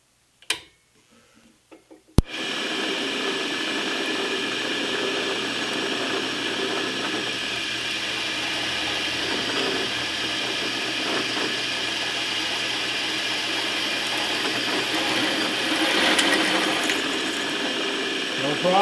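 Drill bit cutting into metal without a pilot hole, a steady grinding whir after a few brief clicks at the start, continuous and moderately loud throughout.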